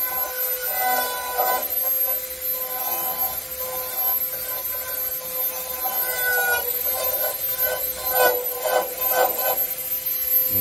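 A Dremel rotary tool makes light cuts into a wood carving of a wizard's face, giving a thin, steady whine with gritty rasping and rubbing bursts as the bit bites the wood, fairly quiet and without talk.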